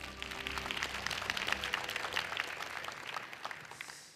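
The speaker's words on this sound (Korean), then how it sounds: "큰 박수 부탁드리겠습니다" Audience at a regional development forum in Korea applauding, a steady wash of many hands clapping at moderate loudness that fades toward the end, with no talk over it.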